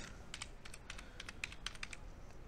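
Rapid typing of Python code on a computer keyboard, a steady run of close, crisp key clicks over faint background hiss, with no talking.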